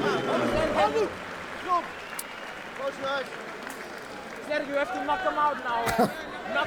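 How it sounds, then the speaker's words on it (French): An audience at a boxing match applauds at the end of a round, with scattered clapping and crowd chatter under an announcer's voice talking throughout. "Fin de la deuxième reprise, on peut les applaudir."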